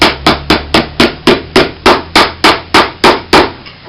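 Twelve sharp, evenly spaced hammer blows seating a cowboy boot heel ring out close and loud in a steady rhythm, with no talking.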